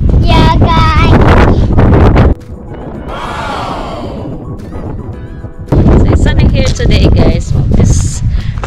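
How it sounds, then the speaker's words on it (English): Strong wind at the car park of the Cliffs of Kerry in Ireland batters the microphone with loud, rough roaring bursts. The bursts ease for a few seconds in the middle before gusting hard again. "Very windy"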